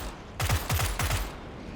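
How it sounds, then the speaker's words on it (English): Weapons fire in PUBG on Xbox in quick bursts of several shots, fairly loud and clustered within about a second, with no talk. "Here I am shooting at the school."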